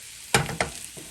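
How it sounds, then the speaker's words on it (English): Home fries potatoes sauté in a hot pan as two quick scraping stirs cut through a soft, constant sizzle, then a fainter third stir. "what we're doing is sauteing these a little bit more"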